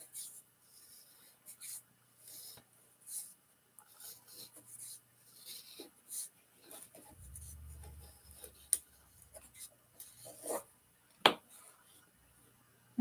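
Soft scraping and rasping of a tool cutting leather-hard clay free around a composite pottery piece resting on a bat, faint and close, in short intermittent strokes with quiet breaths between.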